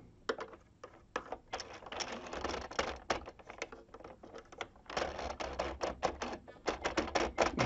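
An Addi knitting machine works tuck stitches between plain knits, giving a quick run of sharp clattering clicks in uneven bursts, close and fairly quiet, with brief pauses between passes.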